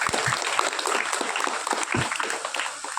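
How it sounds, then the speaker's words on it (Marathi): An audience at a community gathering claps loudly and steadily, a dense burst of many hands that continues evenly for about three seconds. "यासाठी जोरदार टाळ्या झाल्या पाहिजेत"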